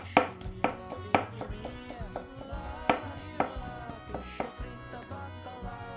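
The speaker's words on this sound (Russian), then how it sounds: "Так, нарезали мяту." Knife chopping fresh mint leaves on a cutting board for a melon and burrata salad, a run of quick, crisp close taps at an uneven pace with short pauses.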